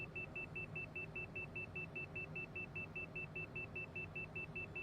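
A cockpit overspeed alarm from Tailstrike Air World Tour pulses in fast, even high-pitched beeps throughout, layered over a constant droning engine rumble at moderate level.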